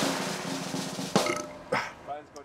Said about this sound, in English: I have a weak little burp.